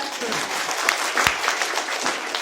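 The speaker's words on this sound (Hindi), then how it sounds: "इनके लिए ताली बजाए" An audience at a business training session claps together in a steady, even patter, moderately loud and continuous, with a sharp thump partway through.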